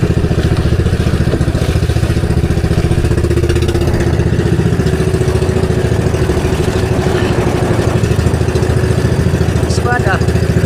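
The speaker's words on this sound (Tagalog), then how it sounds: "Kaso lang yung makina natin papatay-patay." A fishing boat's engine at sea chugs loudly and steadily throughout with a rough mechanical clatter, and voices speak over it; the engine is faulty and stalls intermittently.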